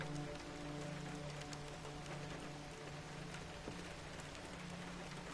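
Soft, steady rain in a video game patters continuously with a faint low hum beneath, even and unbroken, without any talking.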